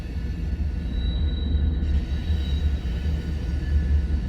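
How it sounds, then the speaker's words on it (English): Westbound freight train rolling past at a rail line, a steady low rumble and rattling wheel noise with a faint high whine, moderately loud and continuous. "so we have two trains westbound right now"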